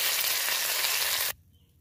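Fish frying in oil, sizzling loud and steady, then cutting off abruptly near the end to near silence.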